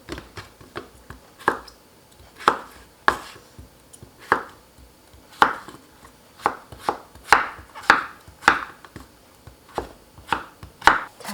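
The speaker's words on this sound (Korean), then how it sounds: "썰어서 절여줄게요 반 가르시고" A knife cuts through king oyster mushroom on a board, crisp separate chops in an uneven rhythm, close and clear, with no talk.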